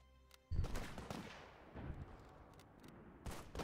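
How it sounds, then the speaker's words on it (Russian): Artillery fire in the WWII strategy game Hearts of Iron IV: a sudden heavy boom after a quiet start, followed by a rolling series of rumbling blasts and sharp bursts, ending in another loud impact. "Артиллерия, артиллерия."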